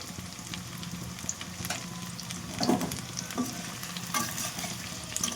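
Puffed rice sizzling in a pan as panch phoron spices are added and stirred in, a continuous close frying hiss with intermittent scrapes of the spoon and no voices.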